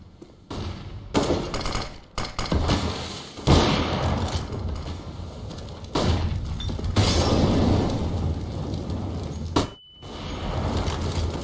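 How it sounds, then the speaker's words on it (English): Flashbang grenade detonating during a Counter-Strike esports match, a loud sharp blast among repeated booming thumps and gunfire-like game sounds, with short gaps of quiet between bursts. "Flashbang is good."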